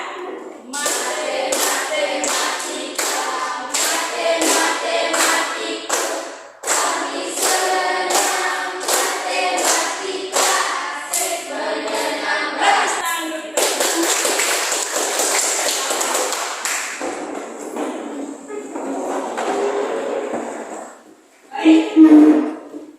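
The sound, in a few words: classroom students clapping rhythmic math clap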